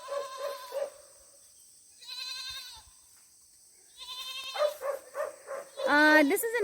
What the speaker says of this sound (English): This is another place where we have 2 goats.